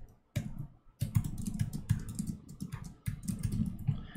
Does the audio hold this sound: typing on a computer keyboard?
yes